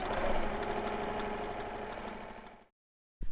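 Sewing machine running steadily while stitching a quilt-as-you-go improv piece, a close, continuous mechanical whir for over two seconds before stopping abruptly, with a brief restart at the very end.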